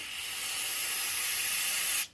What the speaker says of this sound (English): we're just going to spray them with a little carb cleaner